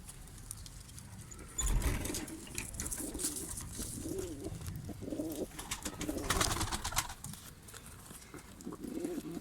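Pigeons coo in a loft, the birds including Arka Tepe and Çakmaklı pigeons. Soft, repeated cooing overlaps from several birds close by, along with wing flutters and shuffling, and no one speaks.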